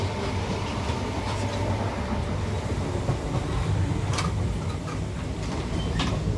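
Caledonian Sleeper train running from London Euston to Inverness, heard from inside a sleeper carriage as a steady loud rumble and roar of wheels on rails with faint clicks and rattles throughout.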